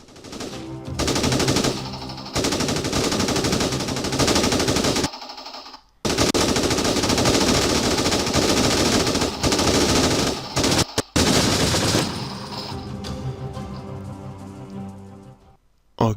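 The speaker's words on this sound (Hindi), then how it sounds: "तो यहाँ पे जो फायरिंग है वो स्टार्ट हो चुकी है।" Gunfire in the Pakistan Army video game The Glorious Resolve: loud, dense bursts of automatic weapon fire that go on almost continuously, with short gaps and a few scattered shots toward the end.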